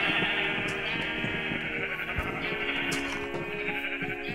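Sheep in Minecraft bleat repeatedly on a rainbow sheep farm, several overlapping nasal baa calls over steady game background sound, fairly close and clear.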